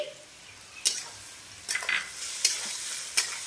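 Garlic paste, ginger paste and chopped chili fry in hot oil with a low steady sizzle, broken by four sharp scraping stirs of a spoon against the pan, close by with no talking.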